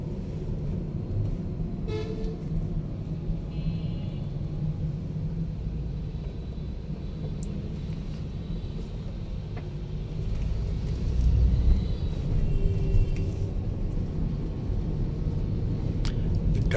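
Night street traffic in Dhaka: a steady low rumble of passing vehicles with several short car horn toots scattered through, one nearby engine swelling louder toward the end.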